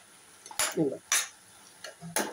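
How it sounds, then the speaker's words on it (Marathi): A spoon clinks and scrapes against a pan while a mixed vegetable dish with spring onion greens is stirred, giving three short, close metallic knocks with softer rustles between them. "ही भाजी अशी ढवळान घेता"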